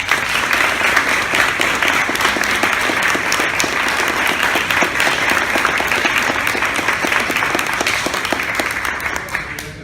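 Sustained round of applause from guests at a Fort Worth Rowing Club reception, dense steady clapping held for nearly ten seconds before easing slightly at the end, close and loud with no talk over it.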